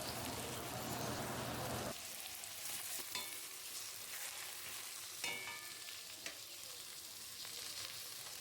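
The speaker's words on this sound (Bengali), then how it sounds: "আমি আলুটাকে দিয়ে একটু নুন হলুদ দিয়ে ভালো করে ভেজে নেব" Potatoes with salt and turmeric fry in a pan for a fish curry, giving a dense, rain-like crackling sizzle, loudest at the start, then quieter with occasional spatula scrapes.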